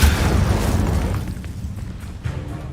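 Confringo blast explosions from the video game Hogwarts Legacy, a loud booming burst at the start that decays into rumbling noise, with a second smaller impact near the end.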